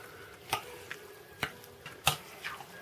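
Cucumber salad being stirred and tossed with unrefined sunflower oil, a few soft, scattered clicks and scrapes of the utensil against the bowl, close and quiet with no talk.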